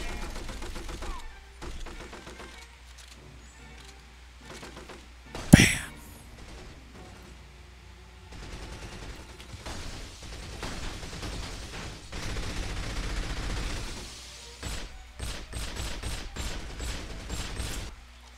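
Gunfire in the Xbox game James Bond 007: From Russia with Love: a single sharp, loud shot, then scattered rattling bursts and a quick run of rapid shots near the end, with quieter gaps between.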